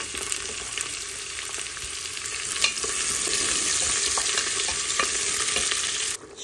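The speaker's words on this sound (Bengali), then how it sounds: "এখন আমি পেঁয়াজ দিব ভালো পরিমাণে।" Onions hit hot oil already seasoned with garam masala and small dried chilies, a loud, close, continuous hiss that swells and thickens after the first few seconds, then cuts off abruptly near the end.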